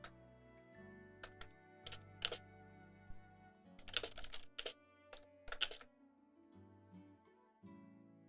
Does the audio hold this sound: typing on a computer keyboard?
yes